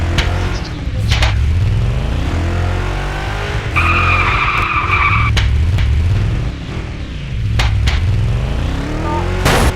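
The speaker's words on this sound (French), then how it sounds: "C'est une voiture." A car skids and screeches its tires in Garry's Mod, with repeated squealing sweeps and engine revving rising and falling over about ten seconds, loud and close, with no talk.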